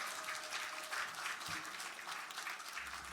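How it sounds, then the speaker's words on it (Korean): A concert audience at Suncheon Bay applauds steadily, a dense wash of claps heard from a distance that keeps going at an even level. "음향 영상 감독님들께도 박수 부탁드리겠습니다"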